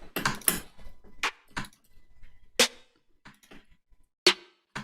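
Layered snare drum samples for a hyperpop beat hit one by one in sparse, sharp cracks, several separate quiet-to-moderate strikes with gaps between them.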